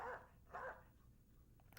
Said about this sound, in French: Je suis au bord de la crise de nerfs quand j'entends ces aboiements.